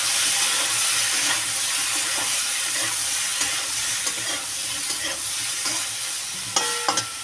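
A fish curry masala with about two spoons of cumin powder is stirred in a hot pan. A dense, steady sizzle and hiss carries throughout, with faint scrapes of the spoon and a few sharper clicks near the end.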